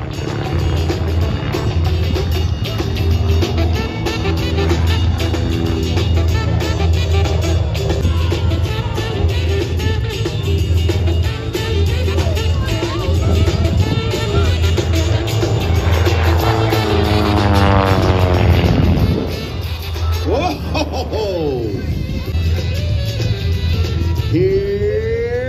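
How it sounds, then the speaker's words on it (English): Aerobatic airplane at the Warbirds Over Monroe airshow performing an outside barrel roll under negative G, a loud sustained engine roar with Doppler-like pitch sweeps as it passes, continuous and fairly close. "He's pushing those negative Gs one more time for the outside barrel roll."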